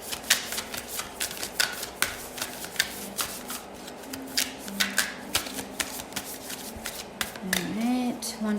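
Tarot oracle cards are shuffled by hand in quick, repeated riffling bursts of crisp papery slaps and flutters, close and fairly loud, with a voice speaking briefly near the end.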